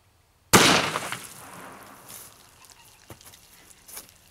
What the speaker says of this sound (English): We'll shoot them with each caliber and see how many rounds it takes to bust them in half.